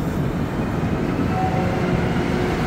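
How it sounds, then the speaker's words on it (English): A Montreal Metro MR73 train pulls out of the station with a steady, close rumble and whir of the rubber-tyred cars, continuous and fairly loud. "There's our MR73 departing."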